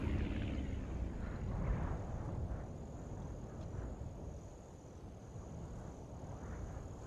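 A steady, loud airplane engine roar from the Aviassembly game as the aircraft comes in fast to land on a runway, a broad continuous drone rising and easing slightly with no voices.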